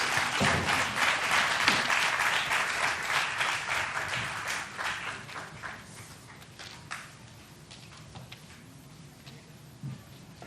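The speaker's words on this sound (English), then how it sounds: "I request the audience to give a huge round of applause once again for this performance" Audience applause fills a hall at the Janata Raja 2024 celebration of Chhatrapati Shivaji's 394th birth anniversary. It begins as a loud, dense crowd clap and gradually thins and fades over about ten seconds, ending with a few scattered claps.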